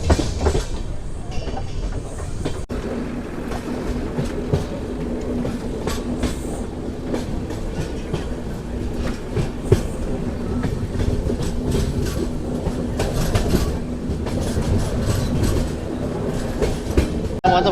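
A long-distance passenger train on the New Delhi to Chennai route rolls steadily along the rails, with a continuous rumble and rhythmic wheel clatter throughout and no voices.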